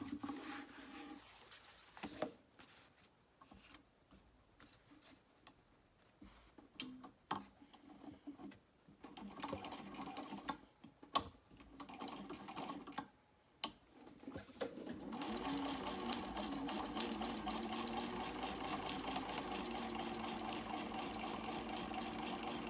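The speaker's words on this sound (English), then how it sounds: "I am going to top stitch across the top of the lining" A sewing machine top stitches across the lining of a small crossbody bag, preceded by scattered quiet ticks and handling clicks, then a steady, sustained motor hum for the last several seconds.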